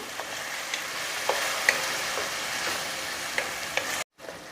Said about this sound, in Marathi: कांद्याची पेस्ट आपल्याला कांद्याचा कलर चेंज होईपर्यंत परतून घ्यायची आहे